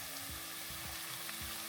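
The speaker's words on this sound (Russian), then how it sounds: "лук правильно жарить первым" Onions sizzle steadily in a pan at low volume, with a few soft, evenly spaced thumps from stirring.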